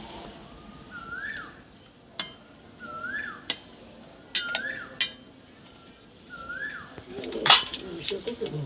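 Pots and lids clink and clatter in a home kitchen while a dish of drumsticks and potatoes cooks, several sharp metallic knocks scattered among faint birdsong chirps in the background.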